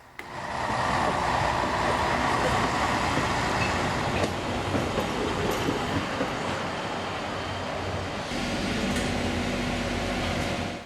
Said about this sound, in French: un autre rail part rapidement pour Hundsmark